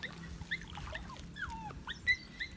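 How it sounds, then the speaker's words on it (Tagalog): Puppy whimpering during a bath, with faint, thin whines and squeaks coming in short bursts over quiet splashing and handling noise. "Ang ingay naman, anong aso yan?"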